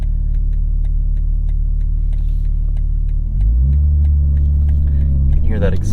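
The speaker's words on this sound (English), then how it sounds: "You can hear how it changes the exhaust note." A 2021 BMW M4's deep, rumbling exhaust idles with a steady rhythmic burble, then swells louder and throatier as the engine note changes, with a faint ticking throughout.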